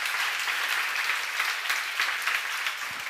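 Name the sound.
audience applause at a church seminar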